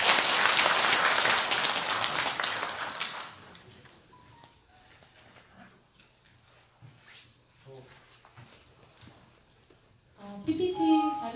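An audience at a district residents' forum claps to welcome the district mayor, a loud burst of applause that fades within a few seconds, followed by quiet rustling and then a voice speaking.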